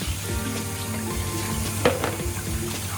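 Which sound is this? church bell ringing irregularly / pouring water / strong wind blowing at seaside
pouring water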